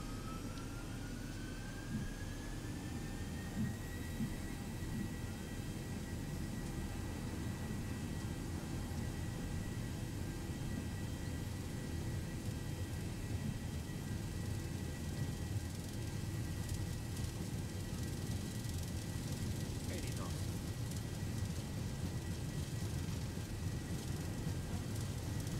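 A Delta Boeing 737-800's jet engines roar through the takeoff roll out of Minneapolis/St Paul in a flight simulator game, a steady broadband rumble with a whine that rises early and then holds for the whole stretch.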